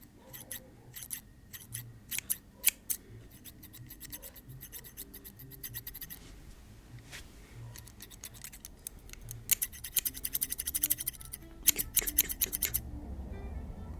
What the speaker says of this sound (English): Now some sounds from a scissor.